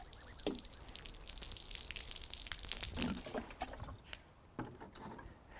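Water splashed from a container onto coloured imprinted concrete, giving a brief run of wet pattering and trickling drips, fairly quiet and close, with small splashes near the start and later scattered drops.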